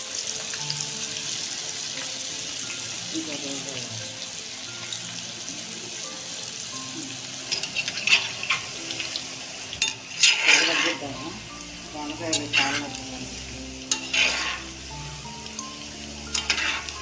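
Ivy gourd pakoda batter sizzles steadily in hot oil in a pan, a continuous close frying hiss with occasional sharper spatters and a few light utensil clinks toward the end, with no talking.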